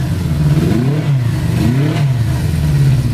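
A Honda CB motorcycle engine (CB360 or CB550 Super Sport after fixing fouled plugs) runs close and loud, its throttle blipped in two rising revs over a steady idle.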